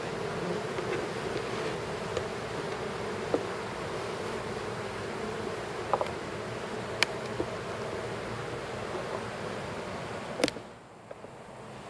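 Honey bees bearding outside a hive on a hot day make a constant close buzzing swarm hum, with a few faint clicks and a brief thump near the end.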